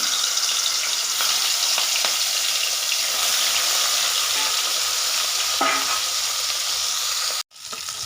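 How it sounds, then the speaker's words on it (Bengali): Rohu fish heads fry in hot oil with a steady, loud broadband sizzle and occasional stirring scrapes, cut off abruptly near the end before resuming. "বাকি মাথাগুলো একই রকমভাবে আমি ভেজে নেব"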